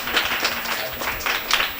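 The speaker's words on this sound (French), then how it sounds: "On applaudit Wood." Children and adults at a Christmas dinner clap for a young boy, a short burst of mixed hand claps with a few louder peaks, fairly close and steady.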